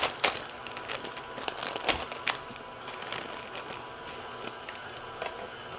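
A plastic bag of Nestle Artisan 48% cacao semi-sweet chocolate chips is cut open in a kitchen, giving sharp crinkles and snips in quick bursts early on, then quieter rustling.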